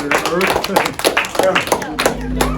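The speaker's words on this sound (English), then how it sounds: "try to give her a round of applause" Scattered clapping of hands in a classroom science demonstration on a solar eclipse, rapid uneven claps close by, mixed with voices talking over them.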